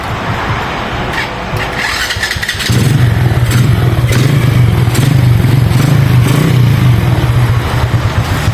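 A motorcycle with a stalling problem cranks with a brief clatter, then its engine catches and settles into a loud, steady close-up idle that runs without speech.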